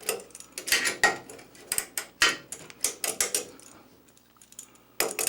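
A ratcheting wrench works on a Gravely brush deck and snow blower attachment, giving close, brisk clicking strokes in uneven bursts with a short pause before it resumes.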